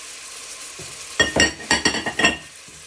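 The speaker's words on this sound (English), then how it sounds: "you want to give that a stir in so they go nice and soft" Onion and garlic stirred into frying pork in a pot, a quiet sizzle broken by a quick series of scraping, clinking stirs close by.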